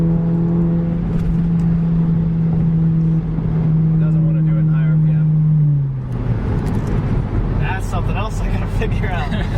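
A car engine holds a steady high-RPM drone before the revs drop away, heard loud and close while people talk over it.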